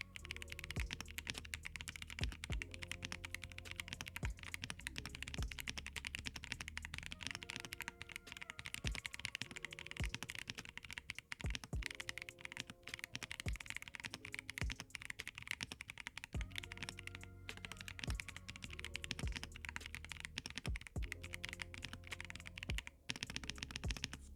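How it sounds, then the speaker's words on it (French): Rapid, continuous clicking of a Keychron Q6 Max mechanical keyboard, with crisp individual keystrokes in a steady typing rhythm and occasional louder thocks. "je vais vous faire écouter le clavier"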